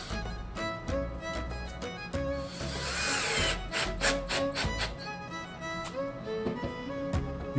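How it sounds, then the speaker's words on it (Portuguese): A power drill whirs into a wooden board in short bursts, its motor pitch rising and falling over about eight seconds, close and fairly loud. "Vou usar essa tábua aqui, certo? Não estou utilizando ela, mas mesmo assim vou furar aqui no cantinho."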